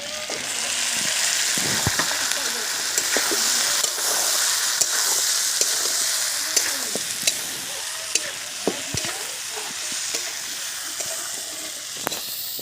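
Boiled jackfruit sautéing in a pan, a loud continuous sizzle and hiss with repeated scraping stirs of a spatula punctuating it close up.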